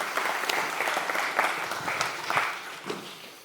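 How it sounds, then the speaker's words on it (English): Audience applause for a volunteer during an evolution lecture, a steady patter of many hands clapping at moderate distance, alone without talk. "Bravo, a round of applause for our volunteer."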